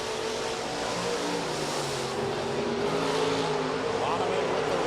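USRA stock cars roar around the Rapid Speedway oval in a heat race, a dense, continuous engine drone from the pack with an announcer talking over it throughout.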